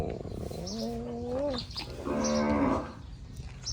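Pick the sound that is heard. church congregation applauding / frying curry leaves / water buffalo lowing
water buffalo lowing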